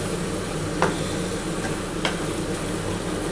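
Cauliflower leaves frying dry in a pan with no turmeric and stirred often, giving a steady soft sizzle with a couple of sharp scrapes of the spoon against the pan, no voices.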